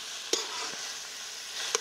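Pumpkin curry is stirred as it cooks in a pan. A low, steady simmering hiss is broken by two crisp spatula knocks against the pan, one near the start and one at the end.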